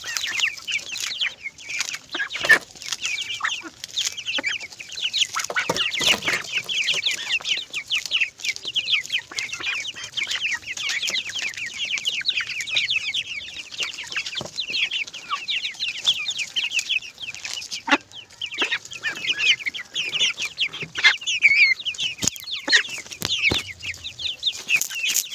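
Chickens cluck and chirp continuously at close range while pecking at fresh greens in a poultry enclosure, with a dense, busy flock chatter and occasional sharper calls.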